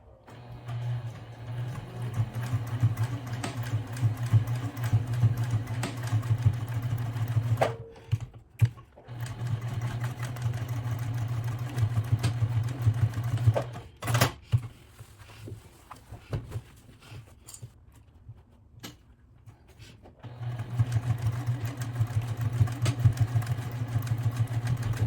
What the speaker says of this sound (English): Okay, I'm going to start to sew.